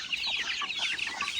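Large farm chickens cluck steadily in a busy, continuous chorus close by, with overlapping soft calls and no talk.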